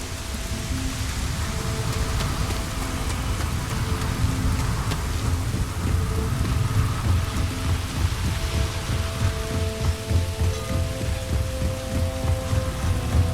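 Steady, dense rainfall with rolling thunder in a stormy futuristic city in the Starfield video game, a continuous loud wash of rain with low rumbles and no talking.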